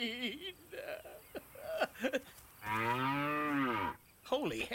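A cartoon cow gives one long, loud, drawn-out moo that rises and falls, with talk from an animated comedy before it and a voice speaking just after.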